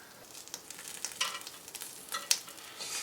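Pork belly sizzles on a cast iron pan over a Weber Baby Q gas grill, with a steady close crackle broken by scattered sharp spits and pops throughout, no voices.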